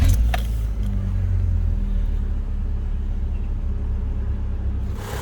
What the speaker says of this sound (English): That has to be the quietest K-series I have ever heard.